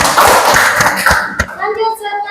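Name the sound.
classroom applause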